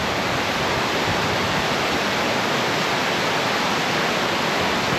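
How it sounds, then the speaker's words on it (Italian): Waterfall in the woods at Cascata dei Papalini, a steady full-band roar of falling water, loud and close, continuous and unbroken with no voices. "Andiamo dietro alla cascata."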